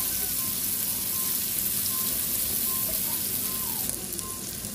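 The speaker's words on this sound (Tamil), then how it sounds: "இப்போ நான் வெட்டி வச்ச வெங்காயம் இதை கொஞ்சம் லைட்டாக தாளிச்சு எடுத்துட்டு" Chopped onions fry in hot oil for pasta, giving a steady, close, dense sizzle that holds at an even level throughout, with faint clinks in the background.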